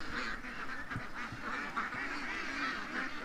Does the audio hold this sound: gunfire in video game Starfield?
no